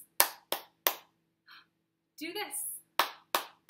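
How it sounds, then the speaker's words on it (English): Hands clapping in a children's class meeting: sharp, close single claps in a steady beat, a short pause while an adult voice speaks, then more claps in the same rhythm. "We're going to be clapping our hands."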